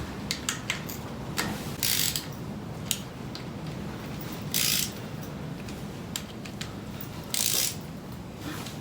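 Wrench ratcheting bolts snug on a Porsche 928 during restoration work, with a series of quick, irregular clicks and short metallic ratchet bursts, fairly close and fairly quiet, with no talking.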